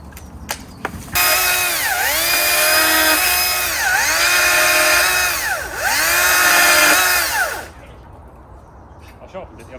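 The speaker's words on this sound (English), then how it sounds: "I'll come over with the saw." Chainsaw cutting down a tree outdoors: the loud saw revs up sharply, then bogs and revs repeatedly in cutting cycles for several seconds before cutting off, with voices around it.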